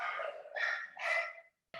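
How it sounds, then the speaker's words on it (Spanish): Female dogs bark nearby in a quick run of three sharp, loud barks, followed by a short pause and the start of another bark at the end. "Por ahí escucho unos ruiditos, además de mis perras, por supuesto."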